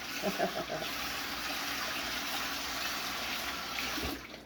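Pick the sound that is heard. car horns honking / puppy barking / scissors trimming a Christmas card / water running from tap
water running from tap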